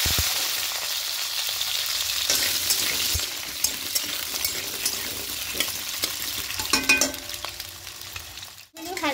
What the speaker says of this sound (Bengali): এবার এই তেলের মধ্যে এখানে আলুগুলো ভেজে নেব।